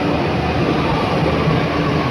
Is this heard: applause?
no